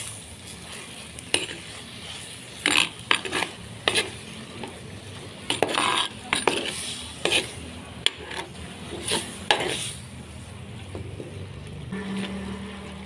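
Clams cooked in a pan with jengkol and roasted coconut spice paste, stirred in repeated scraping strokes over a steady sizzle, with sharp spoon clacks against the pan, close and without talk.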